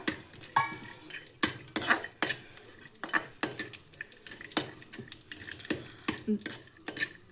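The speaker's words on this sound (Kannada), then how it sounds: "ದ್ರಾಕ್ಷಿ, ಗೋಡಂಬಿ ಮತ್ತು ಇದೆಲ್ಲ ಚೆನ್ನಾಗಿ ತುಪ್ಪದಲ್ಲಿ ಫ್ರೈ ಮಾಡ್ಕೊಳ್ಳಿ" Raisins, cashews and almonds fry in melted ghee in a pan while a spoon stirs. Sharp metallic scrapes and clinks repeat at an uneven pace over a faint sizzle, close and fairly quiet, with no talking.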